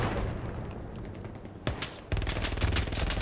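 Machine gun fire in Hell Let Loose, heard as close, loud bursts of rapid automatic shots with a pause and then a second dense burst, with no voices.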